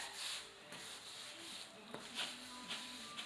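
A wrung-out damp sponge wiping grout across floor tile, soft repeated rubbing strokes with light scuffs, close and fairly quiet.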